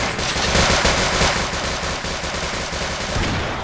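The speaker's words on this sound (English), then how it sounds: "Auto rifle! Yes, it's back!" Automatic rifle fire in the co-op shooter Sven Co-op: a continuous, loud, rapid stream of shots rattling without a break, with no voices over it.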